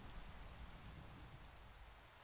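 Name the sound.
rain falling in video game Minecraft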